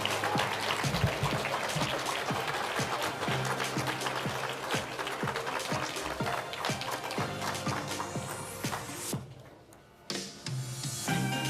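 Audience applauding at an awards ceremony, a dense and steady clapping that stays full for about nine seconds, dips briefly near the end and then picks back up.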